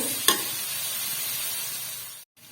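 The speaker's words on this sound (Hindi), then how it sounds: "फ्राई करेंगे, ज़्यादा नहीं करना। जिसमें हम जो है डालेंगे टमाटो।" Chicken karahi frying in a pan as tomatoes go in, a steady close hiss of sizzling with one sharp clack near the start.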